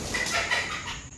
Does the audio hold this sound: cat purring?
no